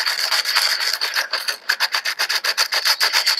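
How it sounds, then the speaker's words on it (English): Steady rhythmic rasping of sandpaper rubbed back and forth by hand on a surfboard during ding repair, fast even strokes that continue without pause and no voices. "And then you're just going to want to sand the area"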